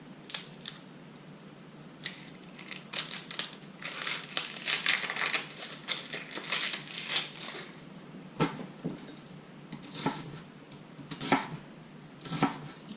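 A knife cuts an onion on a board at a campfire cooking setup with close, crisp, irregular chopping taps in bursts, with no talking.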